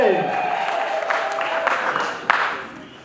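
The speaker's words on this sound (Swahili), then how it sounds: "Hebu pigeni makofi na vigelegele wajue kwamba kuna watu wameingia ndani." A church congregation claps and ululates together in a loud, steady wash of crowd noise with shrill trilling cries, while a voice speaks over it.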